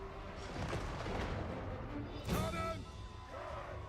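Cannon fire booms in the Warhammer 3 strategy game, with one heavy blast rising above a dense, continuous roar of battle noise, shouting and in-game voices.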